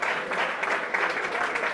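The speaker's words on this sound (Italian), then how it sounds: "grande applauso per lui" Steady applause from a boxing crowd for Riccardo Ramadori after his fight ends, a dense continuous clatter of clapping hands sustained evenly throughout without voices.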